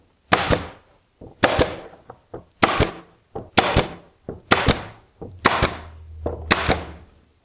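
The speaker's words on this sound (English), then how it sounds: "to shoot a few 23 gauge pins into place" A 23 gauge pin nailer fires pins into a wooden guide board on a table saw setup: six or seven sharp, close snapping shots, each with a short pneumatic hiss, spaced about a second apart with no talk.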